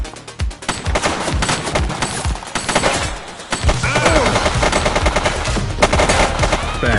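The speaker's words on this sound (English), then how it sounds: "He's shooting!" Rapid gunfire from a shooter in the video game The Precinct, dense bursts of automatic shots cracking loudly and continuously over game action.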